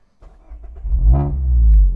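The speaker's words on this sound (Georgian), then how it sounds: "მის მებატრონეს შეცვლილი აქვს უკანა ბაჩოკი და მაგით აქვს ესეთი კარგი ხმა." Mazda MX-5 ND sports car with a modified rear muffler, engine blipped once, a short throaty rev that rises sharply and then holds a deep rumble, heard close and alone.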